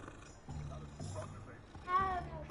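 A cat in the Hogwarts Legacy video game gives a short rising meow near the end, heard under a man's speech.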